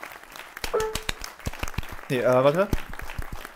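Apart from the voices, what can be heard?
applause in the video game Youtubers Life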